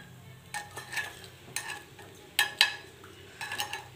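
Puffed, browned appe being turned one by one in an appe pan, the utensil making several short, close scraping clicks and taps over a soft, steady sizzle, with no talking.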